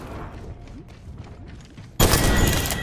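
Gunfire from the video game Apex Legends erupts suddenly as a loud, dense burst of shots, following a couple of seconds of low rumbling in-game ambience.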